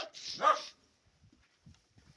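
A dog indoors by a closed door lets out one short bark, followed by quiet shuffling and faint low sounds.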